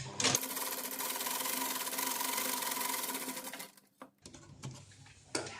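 Sewing machine stitching a salwar, a rapid steady whirring run for about three and a half seconds, close and moderately loud, then stopping, followed by a few softer stitching bursts and clicks.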